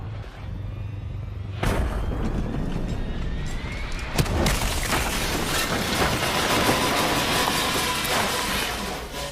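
Massive plane crash explosion from the Black Ops 3 zombie campaign: a sudden loud boom lands early, a second blast follows, then a heavy, sustained roaring rumble of wreckage and fire fills the rest, with no voices.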